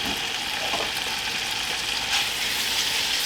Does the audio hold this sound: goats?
no